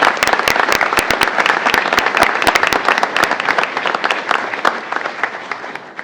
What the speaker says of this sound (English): So to all of you, a round of applause.